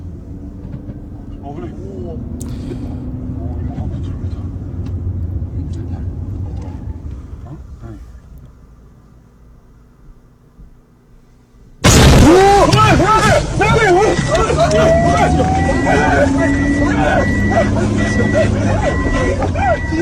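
A car speeding through snow and crashing plays back from a phone video: a sudden loud impact hits about midway, followed by a dense, continuing rumble and clatter, after softer engine noise at the start.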